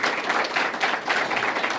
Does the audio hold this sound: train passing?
no